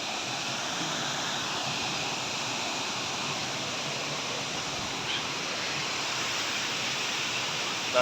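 A steady, roaring rush of falling water from the Courtallam waterfalls in Tamil Nadu fills the whole clip, constant and broadband, close by, with no other clear sounds.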